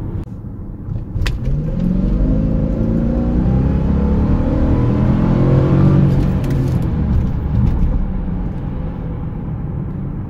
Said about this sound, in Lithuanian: pažiūrim, kaip chargeris dirba, kaip jis čia tą slėgį užputinė